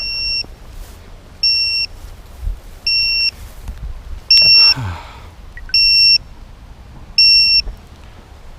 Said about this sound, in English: Very strong beep noise now, coming from this direction.